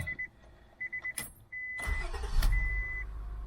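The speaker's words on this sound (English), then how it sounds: "Let's do a startup now and see if the starter works." A few short beeping tones, then a newly replaced starter whirs briefly before a 2000 Acura 3.2 TL engine catches and settles into a low, steady running rumble nearby.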